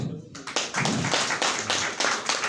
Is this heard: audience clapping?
yes